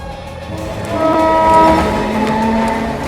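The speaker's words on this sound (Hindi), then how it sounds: "ट्रेन चल पड़ी।" A train pulling away sounds its horn in sustained tones over a loud, close rumble of rail noise, with no talking.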